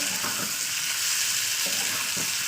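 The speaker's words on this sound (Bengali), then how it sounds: "তো এটাকে আমি এবার ভালো করে ফ্রাই করে নেবো তেলের উপরে" Mashed fish frying in oil in a pan for a fish vorta, a steady close sizzle with a few soft stirring scrapes, no voices.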